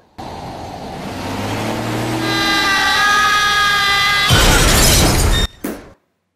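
A car in a film chase scene revs up as it launches over a railing, its engine note rising steadily before a loud, sudden crash and shatter of glass near the end, followed by a brief fading clatter.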